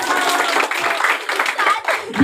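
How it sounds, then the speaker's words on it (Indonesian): Children clap together in a classroom, dense uneven clapping that runs through the whole short stretch and ends abruptly, with voices mixed in. "Oke, tepuk tangan untuk kita semuanya."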